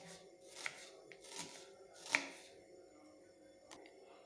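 A knife thinly slicing onion on a board, a few soft, irregular cuts and taps, quiet and close, with light handling noise between strokes.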